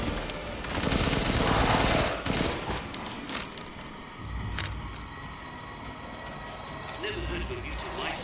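Heavy gunfire rattles in bursts from a big gun in the Resident Evil Village video game, loud and sustained under a steady game soundtrack.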